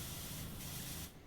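A pressure washer in the PowerWash Simulator game sprays with a steady, loud broadband hiss that runs continuously and cuts off near the end, with no voices.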